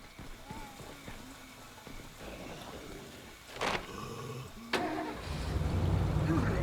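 A car engine starting in the video game State of Decay: two sharp cranking bursts, then a low engine rumble that rises and holds, with a voice talking over it.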